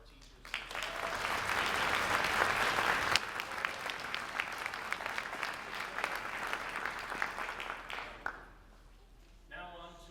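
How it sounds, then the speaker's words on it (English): Audience at a school orchestra festival applauding teachers, dense sustained clapping that swells, holds for about eight seconds and then tapers off before a voice begins speaking. "So let's give a round of applause to our teachers."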